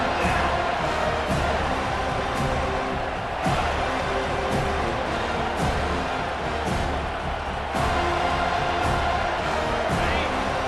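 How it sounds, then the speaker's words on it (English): A stadium crowd roars in a college football video game featuring Memphis and FSU, a dense, steady wall of cheering that swells slightly in waves and stays loud throughout the whole stretch. "Decibels rising as the crowd gets behind this defense on third down."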